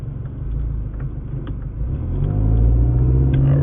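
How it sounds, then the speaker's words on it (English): A Ferrari sports car passing on the road, its engine rumble building from a low hum to a louder, deeper roar as it nears, heard from inside a moving vehicle. "is that a Ferrari? It is a Ferrari."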